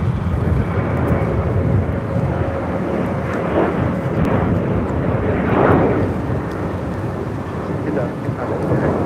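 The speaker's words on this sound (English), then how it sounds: "This is American Airlines 2002 taking off to Las Vegas on a 737-800." An American Airlines Boeing 737-800 takes off at LAX, a loud, steady jet roar that swells slightly midway and holds throughout, heard at a distance across the airfield.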